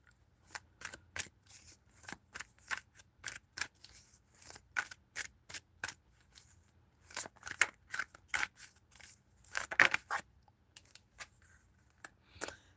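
Tarot cards shuffled by hand make a close, quiet series of crisp snapping riffles and flicks in an irregular rhythm, with near silence in between.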